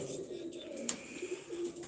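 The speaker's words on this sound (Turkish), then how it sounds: "Orijinal Sivas kuşları bu kuşlar işte abi" Low cooing of Sivas pigeons repeats in soft, throaty phrases, with a brief sharp click midway and quiet ambient noise around the birds.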